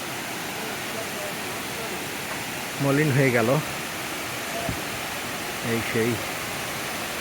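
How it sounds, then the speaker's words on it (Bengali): Nowka waterfall in the hills of Bilaichhari, a steady broadband rush of falling water throughout, with a person talking briefly over it twice. "এখান থেকে অবশেষে আমরা পৌঁছাইলাম সেই নৌকাটা ঝর্ণায়"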